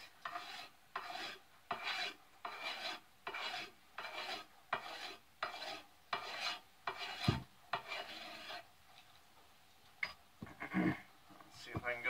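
A blade scrapes varnish off a store-bought ax handle in a steady series of about a dozen short rasping strokes, close and fairly loud, with brief gaps between them and a few sharper knocks near the end.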